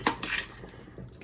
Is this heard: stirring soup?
yes